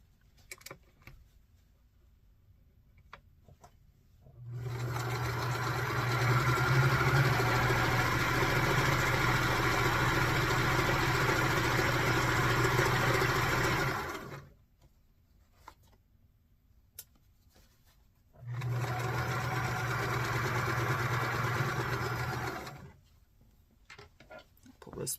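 A sewing machine stitches a quilt seam in two steady bursts, a long run of about ten seconds and a shorter run of about four seconds, with quiet pauses between them.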